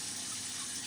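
Tap water runs steadily into a sink during handwashing, a soft continuous hiss of flowing water heard alone for under a second.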